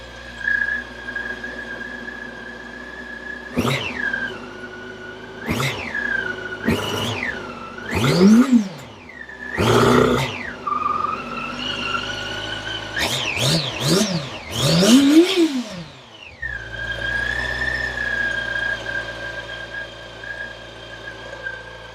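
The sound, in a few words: Yamaha FZ8 motorcycle stock exhaust revving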